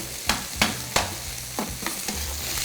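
Peeled, chopped tomatoes sizzle in a pan, with about six distinct stirring scrapes spread over a steady frying hiss and no talking.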